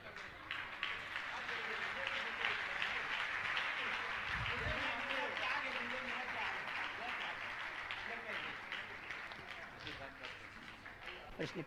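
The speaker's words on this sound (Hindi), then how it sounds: "आपकी तालियां" Audience applause at a religious gathering honouring guests, a steady dense clapping wash held for about twelve seconds at moderate level, with a voice talking over it in places.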